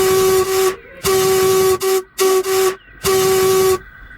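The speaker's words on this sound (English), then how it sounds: "His driver pulled the whistle loud and long." A loud steam whistle blows in several long and short blasts, shrill and tonal with a hissing edge, close by and alone.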